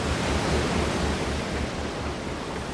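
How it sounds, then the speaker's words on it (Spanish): Storm at sea: a steady, loud roar of wind and crashing waves fills the scene without a break, broadband and dense, with low surging swells pulsing underneath. "¿De dónde diablos vino esta tormenta?"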